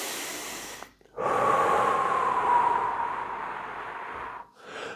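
A single long, deep inhale drawn through the nose during a breathing warm-up before speedcubing, steady and close for about three seconds between short pauses.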